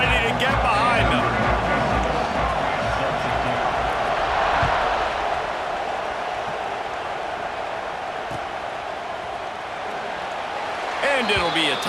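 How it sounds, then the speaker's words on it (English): A stadium crowd in the game EA Sports College Football 26 roars in a broad, steady wash of cheering, with game commentary talking over it. "this crowd now ready to get behind them"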